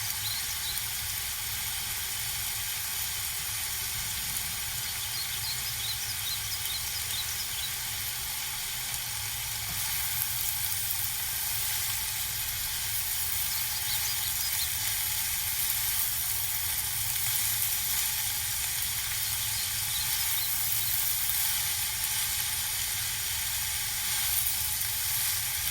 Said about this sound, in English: In the slow fire, we will saute this vegetable for at least 5 minutes